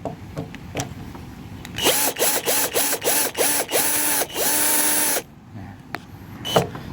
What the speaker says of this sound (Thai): ได้น็อตหงเหลี่ยมมาแล้วนะครับเดี๋ยวก็จะคลายน็อตออกนะครับ